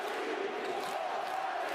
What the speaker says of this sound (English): Crowd doing all they possibly can to get behind their team